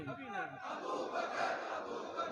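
At a religious gathering, a large crowd roars out a chanted slogan together, a dense sustained mass of voices after a single voice briefly leads.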